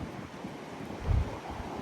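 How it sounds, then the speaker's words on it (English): Steady, cold outdoor wind buffets the microphone with a low rumble and one brief louder gust, no voices. "it's windy as fuck out here and it's cold"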